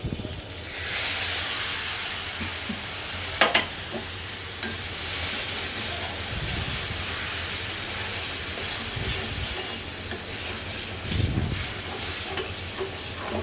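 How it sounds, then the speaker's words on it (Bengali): Hilsa fish frying in hot oil gives a steady, close sizzling hiss that runs through the whole stretch, with a few brief clinks and stirring sounds and no talking. "আজকে আমি মাছটা ভেজে নেই, কারণ আমি মাছটা কষিয়ে রান্না করব।"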